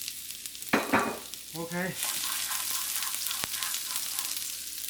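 Chopped garlic and ginger hit a hot pan and break into a loud, continuous sizzle, preceded by a few sharp clatters; a voice speaks briefly.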